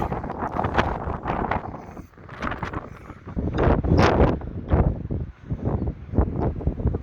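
Wind buffets the microphone in uneven gusts on a cold day in Blackpool, a loud rumbling roar that swells and dips throughout with no voice heard.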